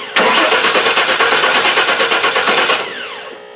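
A car engine cranks without starting, the starter churning in a fast, even rhythm for about three seconds, loud and close, then stopping.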